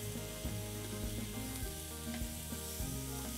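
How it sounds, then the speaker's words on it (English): Lemon-brined chicken thighs sizzle steadily on a hot grill after being flipped, a continuous crackling fry with faint scraping and clinks, no talking. "We're gonna flip these over"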